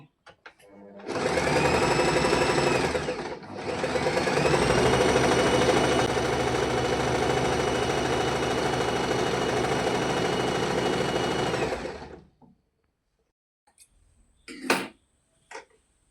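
A sewing machine stitches pants in two fast, loud, continuous runs split by a short pause, then stops, followed by a few soft clicks and handling taps near the end.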